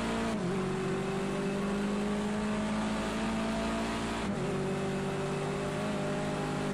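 A BMW 320 TC touring race car in Project Cars 2 on the Nordschleife, its engine droning at steady high revs with two quick gear-shift dips, loud and continuous from the cockpit.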